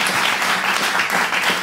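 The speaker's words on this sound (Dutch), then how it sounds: "Ik vraag u warm applaus" Warm audience applause fills a Dutch TV studio during a political talk show, a steady dense wash of clapping from many hands throughout.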